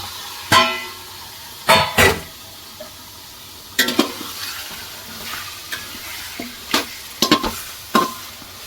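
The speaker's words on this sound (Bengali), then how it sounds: "পেঁয়াজটা ভাজা ভাজা হয়ে গেছে, ওর মধ্যে দিয়ে দিচ্ছি অল্প অল্প আদা রসুন" Onions frying in a pan as ginger and garlic go in, with bright sizzling and several sharp clinks and scrapes of stirring spaced unevenly over a steady close hiss.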